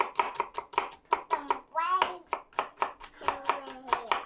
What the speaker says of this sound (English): So here's our little green onions. So we're going to cut these up.